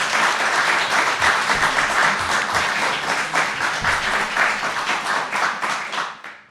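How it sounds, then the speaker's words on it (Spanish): A live audience at a Vigo event on the city's Roman past gives steady, dense applause close by, holding for several seconds before fading out. "fuerte, fuerte aplauso."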